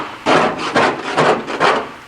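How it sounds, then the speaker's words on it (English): Black ossified residue being scraped off a metal surface with a hand tool, four rhythmic rasping strokes in quick succession, close and clear with no talk. "So we just scrape that off"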